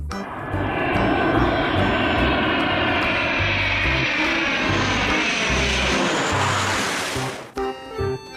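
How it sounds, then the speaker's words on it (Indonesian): A toy fighter jet's sound effect roars loudly and steadily for about seven seconds, a dense whooshing engine rush with a rising whine, then cuts off abruptly with a few brief knocks afterward. "Pesawat tempur."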